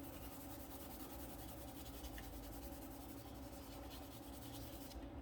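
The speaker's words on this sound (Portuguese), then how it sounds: "aqui eu vou colorir com o não aquarelável" A non-water-soluble colored pencil is rubbed across paper to fill in color, making a continuous close, soft scratching hiss with a steady back-and-forth texture and no voices.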